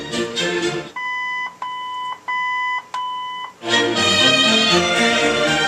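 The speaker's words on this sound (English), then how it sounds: "It's going to beep, and it's going to put us in the fader mode." An electronic beep from the original AM radio of a 1956 Studebaker Golden Hawk sounds several times in a steady, evenly spaced series, clear and close, with a busier background dropping out beforehand and returning afterward.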